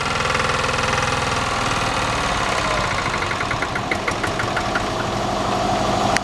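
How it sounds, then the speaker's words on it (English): Lombardini diesel engine on a Wanco arrow board sign trailer idling, a loud, steady close-up rumble with a rapid knocking beat and some rattling vibration throughout, no talking. "Don't crank it up."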